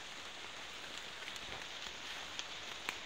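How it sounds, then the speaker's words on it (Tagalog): Steady rain falls on open farmland near a highway, a dense continuous hiss with a few sharper drops tapping close by, moderately loud and with no voices. "Medyo maulan po talaga."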